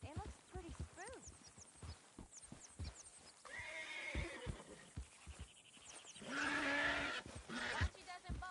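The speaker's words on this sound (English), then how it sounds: "Come here, you silly nag. It looks pretty spooked." A spooked horse in Red Dead Redemption 2 whinnies and snorts over clopping hooves, the neighs loud and close and repeated, while voices talk around it.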